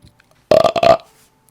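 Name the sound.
burp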